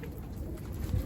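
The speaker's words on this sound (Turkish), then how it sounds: "Arkadaşlar kuş şurada bakın kümesin üstüne çıkmış olan." Pigeon cooing at a backyard coop, a low soft burble with one louder swell near the end, set against a steady outdoor background hum.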